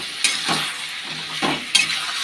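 Vegetables and green chilies sauté in a pan under a constant close sizzle, broken by a few scraping stirs and two sharp utensil clinks against the metal, with no talk.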